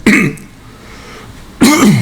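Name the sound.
cough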